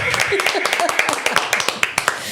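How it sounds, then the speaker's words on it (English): A live audience claps for a guest named on stage, a quick scattered patter of hand claps mixed with people talking and laughing close by. "Clap for yourself"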